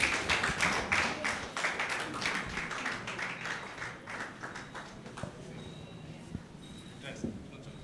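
An audience claps together in a crowded rhythmic burst, loud at first and then thinning into scattered claps and fading, with a voice speaking over it.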